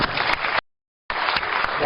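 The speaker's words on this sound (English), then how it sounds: "I think our president is another round of applause." Audience applause after a keynote address by a union president at the opening ceremony of a COEASU summit: dense, steady clapping broken by a half-second gap of silence, then resuming at full strength.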